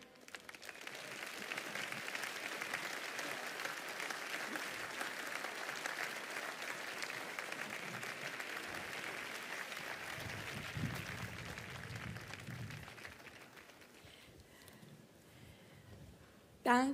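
Sustained audience applause welcoming speaker Lucia Heilmann at a commemorative event on Heldenplatz, a dense, even wash of clapping from a large crowd that holds steady for several seconds, then fades toward the end.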